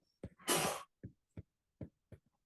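A single sharp sneeze bursts out in a quiet classroom, preceded by a short breath and followed by several brief soft throat sounds or small coughs.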